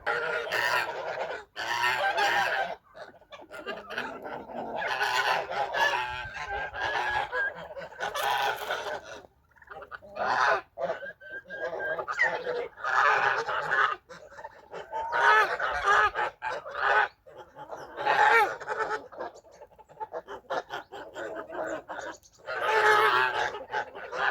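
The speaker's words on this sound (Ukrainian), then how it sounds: "Гуси порозходилися, як дурні в різні сторони." A flock of large geese honking and calling in repeated overlapping bursts with short pauses, near and fairly loud, with a few chicken-like clucks mixed in.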